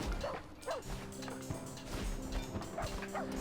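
In the village-building game Rise to Ruins, a dog gives a few quick, small barks and yips over a busy, low game background. The barks sit at moderate level among other in-game sounds.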